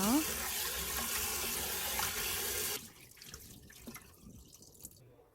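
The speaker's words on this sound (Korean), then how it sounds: "손으로 비벼주면서 이물질을 제거해 주세요." Webfoot octopus is rubbed and washed by hand under running tap water, a steady splashing stream for almost three seconds that gives way to softer drips and handling sounds.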